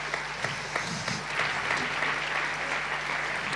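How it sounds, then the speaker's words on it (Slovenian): Applause from an audience at a municipal holiday celebration in Bled, Slovenia, comes as dense, sustained clapping that rises slightly and holds steady throughout, with a few faint voices beneath. "en velik aplavz za našo Bled."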